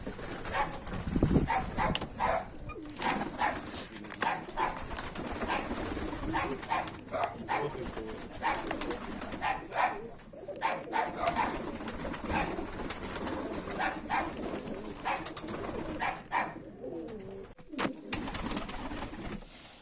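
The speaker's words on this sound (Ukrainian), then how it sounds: "Приїхав до Сімоненка Ніколая Ніколаєвича познімати голубів." Tumbler pigeons cooing repeatedly close by, soft throaty coos over a busy outdoor background with occasional rustling and a few sharp knocks.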